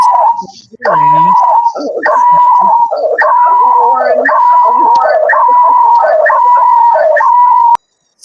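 A dog whimpering and howling in high, puppy-like wails, a run of repeated cries filling most of the stretch close by before cutting off near the end.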